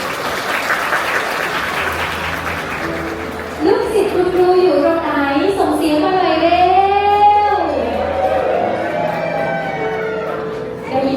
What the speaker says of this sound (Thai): เสียงปรบมือให้กับคุณครูคนเก่งด้วยค่ะ